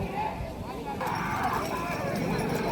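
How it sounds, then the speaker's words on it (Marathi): Bullock pairs, including an old bullock, run in a village plowing race in Mirvane. Rapid hoofbeats clatter under a continuous, excited commentator's voice, with crowd noise behind. "आतला म्हातारा बैल बघा कसा करकरी धावतोय."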